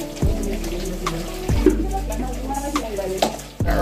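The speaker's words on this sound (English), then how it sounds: "I fry them really nice." Fish fry in a hot pan in a home kitchen, a steady sizzle with a few sharp clatters of utensil against the pan, loud and close.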